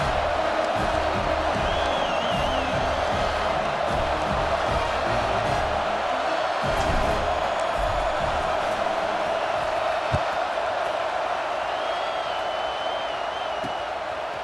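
A stadium crowd in EA Sports College Football 26 keeps up a steady, broad roar for about fifteen seconds, with faint whistles and scattered shouts rising from the dense murmur.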